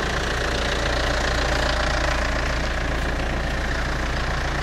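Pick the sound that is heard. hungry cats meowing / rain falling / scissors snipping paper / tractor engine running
tractor engine running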